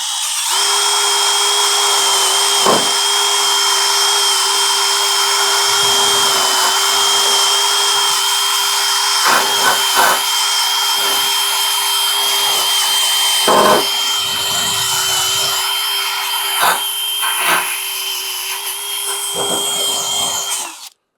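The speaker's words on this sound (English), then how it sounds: "I'm going to use an electric wire brush" An electric wire brush on a drill whines steadily as it scrubs underseal and rust from the underbody of a classic MGB, a loud, continuous high-pitched grind broken by brief dips where the brush shifts position.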